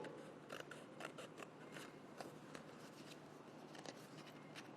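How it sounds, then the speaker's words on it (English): A pair of scissors cuts along drawn lines on paper, giving a steady run of crisp snips and rustles, close but faint, with no talking. "You cut following the lines you have drawn."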